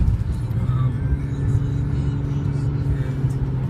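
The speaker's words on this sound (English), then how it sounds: "And you hear the engine." A car engine drones steadily and loudly while driving along the Saw Mill River Parkway near Manhattan and the Bronx, with a constant low road rumble and no clear changes in pace.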